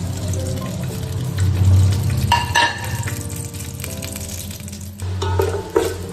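Whole spices such as peppercorns, star anise, cinnamon, cardamom and dried lemon fry in oil for chicken mandi, a close crackling sizzle with clattering stirs and a few sharp bursts.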